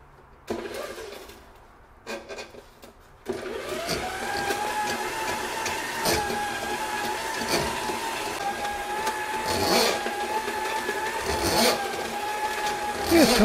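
A roughly 32-year-old drain cleaning machine switched into reverse while clearing a washer standpipe drain: a few short clunks, then a steady motor whir with a rising hum, close and continuous, plus intermittent rattling knocks.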